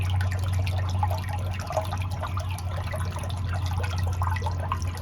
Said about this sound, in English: I am replacing the water here in our water fountain.